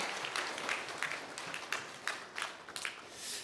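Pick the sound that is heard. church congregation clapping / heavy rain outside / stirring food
church congregation clapping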